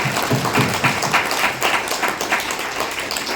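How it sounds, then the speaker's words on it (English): A round of audience clapping for panelists at an evening panel session, a moderate crowd's applause with some distinct individual claps, steady throughout the short stretch and unaccompanied by talk. "Let's give them a round of applause."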